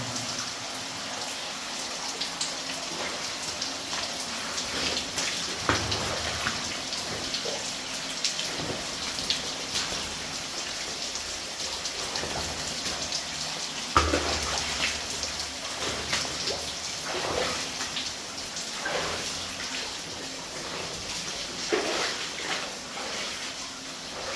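Steady trickling and dripping water with scattered splashes inside an abandoned mine, continuous and fairly close, echoing slightly in the enclosed space.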